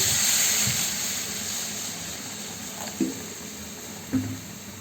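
Water is poured into a cooking pan while making a katla fish curry, a steady close hissing rush that eases off, followed by a couple of soft knocks, with no talking.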